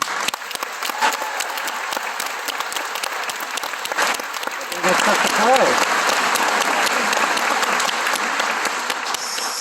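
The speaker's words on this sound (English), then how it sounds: "So a round of applause to all the composers" Sustained applause from a large audience at a Video Games Live concert, steady clapping that swells slightly partway through and continues throughout.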